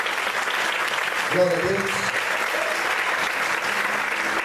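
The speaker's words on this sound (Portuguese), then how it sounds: "Você pode aplaudir ao Senhor essa noite?" A church congregation applauding during an evening service, a dense wash of clapping throughout, with a voice speaking briefly over it.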